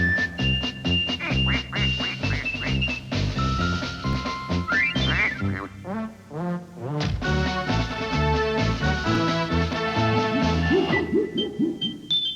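A duck quacks over and over in a 1992 Honda Civic television advert, loud, close-up nasal calls in quick bursts that run almost nonstop for about twelve seconds, with musical backing underneath.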